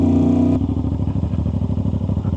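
Aprilia RS660 sport motorcycle with a loud aftermarket exhaust, a steady close, rasping idle burble with rapid pulsing, opening with a brief tonal blip before settling into a throbbing beat.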